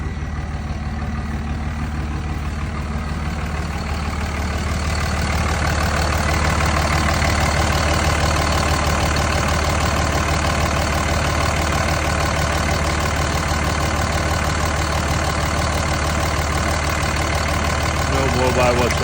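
A 2005 Dodge Ram 5.9 Cummins diesel dually idles steadily with a deep, rumbling tone and a faint whistle from its Fleece Cheetah turbo, loud and close, continuing unbroken throughout.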